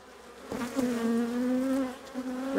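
Honeybees buzz in an open beehive, a close, steady droning hum with a few individual bees passing nearby over a couple of seconds.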